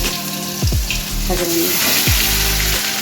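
Ground onion paste drops into hot oil with whole garam masala for chicken rezala, giving loud bursts of sizzling that surge with each addition and then crackle steadily.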